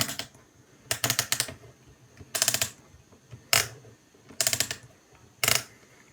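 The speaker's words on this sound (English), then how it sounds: "the new sound that emanates when you move his neck is just so satisfying." A Transformers G2 Sludge Dinobot toy has its neck moved, giving close, crisp ratcheting clicks in six short bursts separated by brief pauses.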